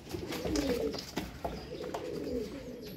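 Pigeons coo in soft, repeated rumbling phrases, close by, with a few faint clicks and rustles in between.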